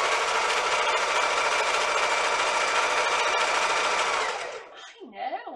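A sewing machine stitches fast and steadily, with a dense, buzzing mechanical chatter close up that stops abruptly near the end, followed by brief talk.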